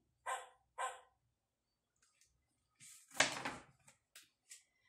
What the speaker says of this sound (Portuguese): debaixo do telhado, um latido ele ouviu. Era um cachorro